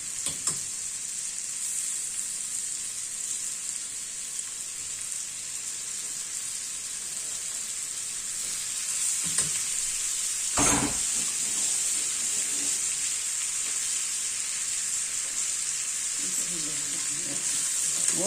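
Shrimp sizzle and fry in a pan with a steady, bright hiss that persists throughout, with a short clatter midway and faint voices beneath.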